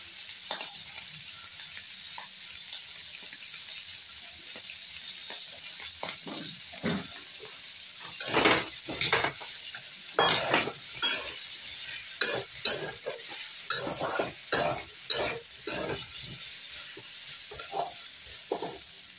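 Turmeric hits a hot, dry pan of frying lentil dosa batter mixture, giving a steady close sizzle broken by repeated scraping strokes of a spoon that grow louder and more frequent toward the end.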